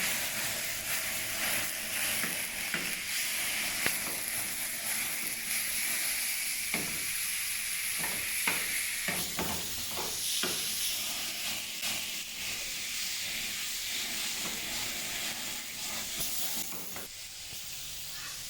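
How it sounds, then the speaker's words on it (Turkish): Chicken and vegetables sautéing in a pan give a steady, close sizzling hiss with scattered stirring clicks and scrapes, fading slightly near the end. "Şimdi güzelce kavurma işlemini devam ettirelim."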